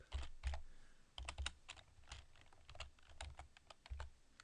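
Close, quiet typing on a computer keyboard comes as irregular bursts of crisp key clicks with brief pauses between them, with no voices.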